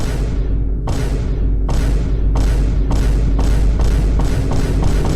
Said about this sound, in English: It was a series of booms that got progressively faster.